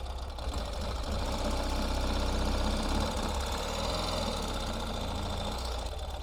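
A 2025 Ural Gear Up sidecar motorcycle idles in reverse with a steady, close, rattling engine chug that continues throughout.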